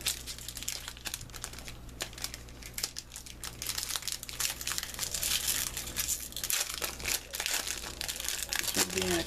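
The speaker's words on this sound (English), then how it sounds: "Really stacking up the cards here." Hockey cards being shuffled, handled and stacked into a pile, a dense run of crisp crinkling, flicking and rustling close by, with someone talking over it.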